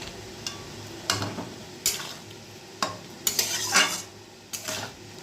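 Spices with salt, turmeric and sugar are stirred in a pan: a handful of distinct metallic scrapes and clinks against the pan over a soft background sizzle, close and moderately loud.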